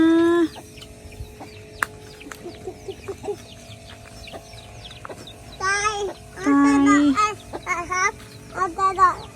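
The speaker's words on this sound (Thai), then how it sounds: "มาดูไก่ตัวนี้" A chicken clucks nearby in short, repeated bursts, mixed with children's voices and adult talk in an outdoor setting.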